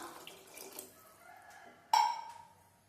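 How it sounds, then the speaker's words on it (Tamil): Water is poured from a container into a pan of eggplant tamarind curry, a short soft splash and trickle close by that rises suddenly then fades, with quieter kitchen handling sounds beforehand. "இந்த குழம்புக்கு தேவையான தண்ணியும் சேர்த்துடலாம்."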